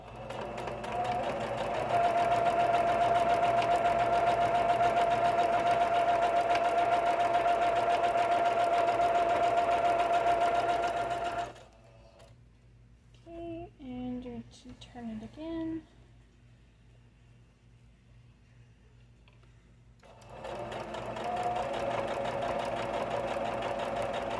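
Domestic sewing machine stitching a circular fabric potholder, a steady fast mechanical whir for about eleven seconds, then a quiet pause with a few brief clicks and tones, before the motor resumes.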